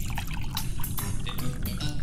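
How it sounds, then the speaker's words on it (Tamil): Water is poured in a steady splashing, gurgling stream for about two seconds, fairly close and continuous. "தண்ணி ஊத்துறாப்பல"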